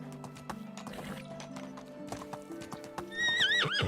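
Hooves clip-clop steadily from a horse in the medieval life-sim game Medieval Dynasty, with a sharp, loud whinny breaking out near the end over faint in-game ambience.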